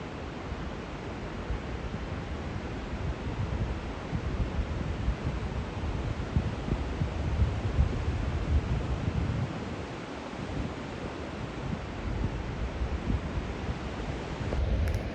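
Distant waterfalls roar down a hillside below a glacier, a dense, steady rushing wash heard from far up the hill, broad and unbroken with gentle swells in loudness and no voices.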